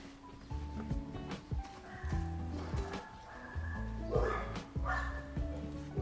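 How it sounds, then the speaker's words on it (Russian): Several dogs bark in scattered, repeated bursts at a moderate distance in a suburb, over a steady background hum. "здесь постоянно просто лают собаки круглосуточно"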